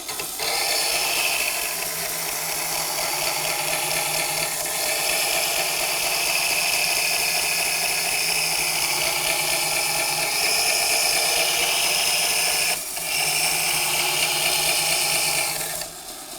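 Axminster Trade Ultimate Edge sharpening machine running while a hand tool edge is worked on it: a steady, fairly loud whirring hum with a faint grinding hiss, continuous throughout with one brief dip.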